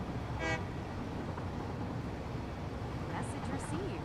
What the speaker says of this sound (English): I'm honking the horn